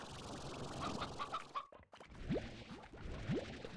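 Hens in the video game Slime Rancher give a quick run of clucks, then a short pause, followed by a couple of rising springy boing-like tones amid more soft clucking, fairly close and clear.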